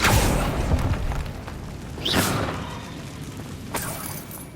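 Spell effects for Incendio and Depulso in the Hogwarts Legacy video game: a broad whooshing burst at the start, a sharp rising magical swoosh near the middle and another crack-like burst toward the end, all loud over a continuous game ambience.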